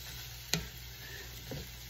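Raisins get stirred into homemade granola in a cast iron pan, two distinct scraping strokes about a second apart over a faint, steady background hiss.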